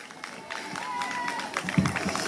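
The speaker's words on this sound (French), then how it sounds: "Sous vos applaudissements, s'il vous plaît." Audience applause at a festival at the Palais Longchamp, a crowd clapping steadily at moderate level with voices mixed in.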